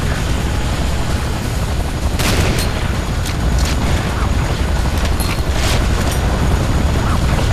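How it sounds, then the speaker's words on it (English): Ion cannon strike from the Command & Conquer: Renegade video game, a loud sustained roar of blasting and rumbling with several sharper booms bursting through midway, steady and overwhelming throughout. "I could just use the ion cannon thing to take out the Hand of Nod"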